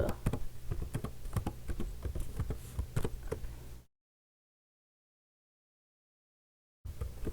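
Rapid keystrokes clatter on a computer keyboard for a few seconds, then stop into silence before typing briefly resumes.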